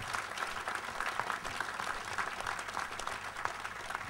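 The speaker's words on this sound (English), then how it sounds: "I think he deserves a round of applause as well" An audience at a book launch on the West Cork Rally history claps for a speaker, a steady even patter of applause from a modest indoor crowd, fairly distant.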